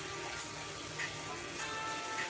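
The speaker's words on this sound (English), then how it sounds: "By adding just a little water" Water pouring into gravy in a breakfast skillet with sausage, eggs, bacon and potatoes, a steady close trickle and splash that continues without talk.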